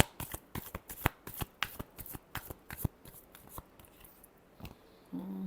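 Tarot cards being shuffled by hand, with a quick run of crisp, snapping riffles and slaps that come close and clear, then slow and thin out toward the end.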